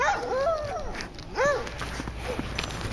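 A dog gives a few bright, high-pitched yips and whimpers close by, with a first burst at the start and a second around the middle, then soft shuffling and quiet whines against a steady background hiss.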